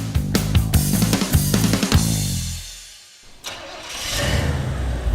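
An engine cranks and catches, running roughly with a few revving bursts, then drops to a low rumble before a loud rev climbs back up.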